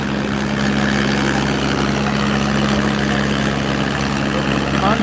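Sonalika and Farmtrac tractors straining in a village tug-of-war contest, a loud continuous engine drone with a steady low hum, constant throughout with crowd voices mixed in.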